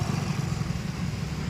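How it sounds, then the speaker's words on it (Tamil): A Hero Passion Pro motorcycle idles after engine work, a steady low, even engine beat close by, running alone without talk. "வெஹிக்கிள் வந்து இப்போ ஐட்லிங்கில் தான் நிற்கிது"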